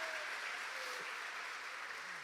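A church congregation applauding during a sermon, heard as a continuous, even wash of clapping at moderate level with no speech over it.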